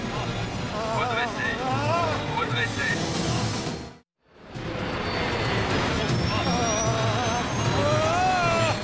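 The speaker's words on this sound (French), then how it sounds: "Les gaz. Remise de gaz." Jet engines of a Boeing 737-200 on First Air flight 6560 roar steadily as they throttle up for a go-around on approach, with a brief cut-out midway and voices speaking over the engine noise.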